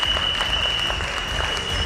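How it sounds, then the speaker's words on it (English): Steady applause from an audience at a retail awards ceremony as an award presenter comes on stage, dense continuous clapping throughout with a faint high tone under it. "let's have applause for Ms. Shalita Nagesh to come on stage to give an award to all these associates"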